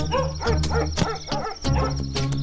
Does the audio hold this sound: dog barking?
yes